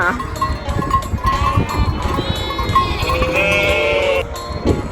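Sheep bleat on a farm in loud, close, overlapping calls. Several long wavering bleats follow one another, set against low background noise.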